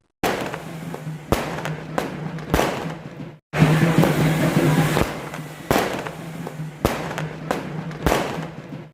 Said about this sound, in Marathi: जागोजागी मोठ्या प्रमाणात फटाके फोडण्यात आले